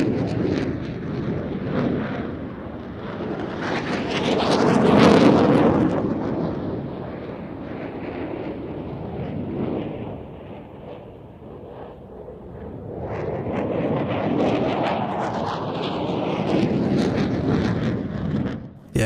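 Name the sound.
JF-17 and F-16 fighter jets flying air show manoeuvres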